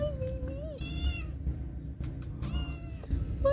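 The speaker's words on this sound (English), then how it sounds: "See, even the kitty cats are friendly." A friendly cat met along the Camino trail out of Ourense, Spain, meows repeatedly in drawn-out, wavering cries over a low outdoor rumble, with a few short, higher meows toward the end.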